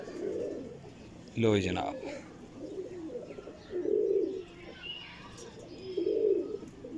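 Breeder pigeons coo in soft low bursts near the start, middle and end, while someone talks over them at close range.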